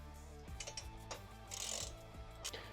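A nut on an Audi SQ5 intake is tightened with a ratchet, giving a run of quick, close mechanical clicks and faint metallic ticks at low volume, with no voices.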